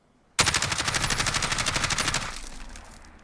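An HK433 rifle in Call of Duty Modern Warfare fires one long full-auto burst, loud and close, with rapid even shots for about two seconds that then stop and ring out into a fading echo.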